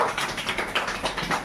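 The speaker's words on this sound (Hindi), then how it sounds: "ताली बजाइए" A classroom audience claps together at a school event honoring a student, a brief burst of dense, steady applause with irregular peaks, fairly close and with no talking over it.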